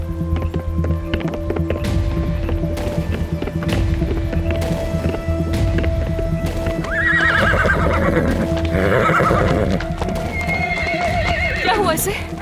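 A horse neighs in long, high whinnies while hooves clip-clop steadily on hard ground, close and clear, with people talking throughout.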